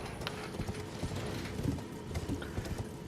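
A horse's hooves clip-clop steadily in the open-world video game Elden Ring, the rapid, moderately faint beats running continuously over a dense game soundscape.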